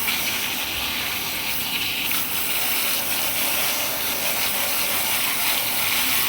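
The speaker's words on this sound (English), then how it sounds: "just blow the color out by moving the water down the hair strand" Running water rinses hair dye out of long hair with extensions, a steady, close spray that hisses continuously without pause and with no voices.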